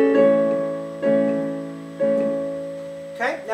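Piano plays a section of a Chopin piece, repeating the same sustained chord three times at even one-second intervals, each strike ringing and decaying, loud and close, with a brief higher flourish at the end.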